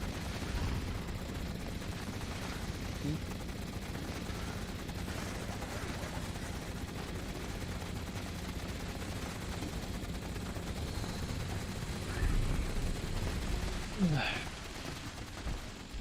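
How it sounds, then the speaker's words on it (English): Gatling laser from Fallout 76 firing in a long, unbroken stream of rapid energy shots, steady and loud throughout with a brief swell near the end. "It's amazing how little recoil the Gatling laser has."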